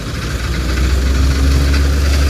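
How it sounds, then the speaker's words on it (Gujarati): A Shri Balaji thresher engine drones on steadily in a coriander field, loud and close, with a constant low rumble and rattling vibration and no voices. "આ રીતના કંઈક હાલે છે મિત્રો આપણું શ્રી બાલાજી ઠેસર."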